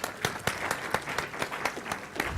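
An audience claps for a speaker at a blogging talk, a steady burst of applause heard from within the crowd, with no talking over it.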